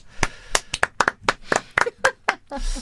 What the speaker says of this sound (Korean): 박수, 이 박자가 이 김정은 느낌이에요